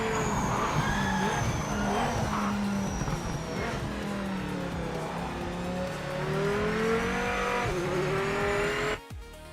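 A race car in the video game Project Motor Racing, with a loud, steady engine drone that rises and falls across gear shifts, tires squealing and skidding throughout, and an abrupt cutoff at the end.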